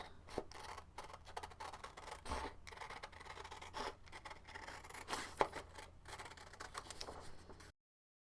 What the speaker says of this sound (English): So I've got my paper scissors here, and let's go ahead and cut that out.